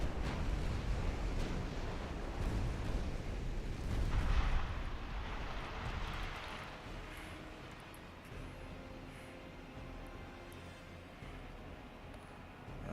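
Naval gunfire in the warship game Ultimate Admiral Dreadnoughts, with heavy booming rumbles that swell to a strong burst near the middle, then a lower, steady rumbling roar.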